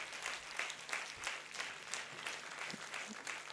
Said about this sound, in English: bring the roof down with the biggest possible applause